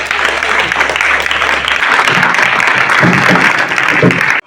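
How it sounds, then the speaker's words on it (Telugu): A crowd at a village school gathering applauds loudly and steadily, with dense, sustained clapping from many hands lasting several seconds before stopping abruptly. "ఒకసారి అందరు క్లాప్స్."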